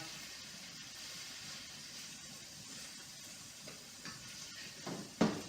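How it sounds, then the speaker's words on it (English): Vegan Alfredo sauce sautéing over medium heat on a stovetop, a steady soft sizzle and hiss with light spatula scrapes and stirring clinks growing more noticeable toward the end. "we're just mixing around and letting it all just sort of cook down and saute"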